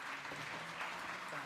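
Audience at a startup event applauding, dense steady clapping throughout with a voice talking over it.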